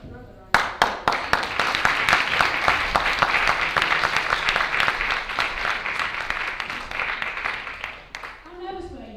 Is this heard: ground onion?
no